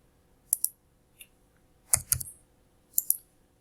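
A computer mouse gives sharp, close clicks in quick pairs, with a few separate double clicks spaced over a few seconds in an otherwise quiet room.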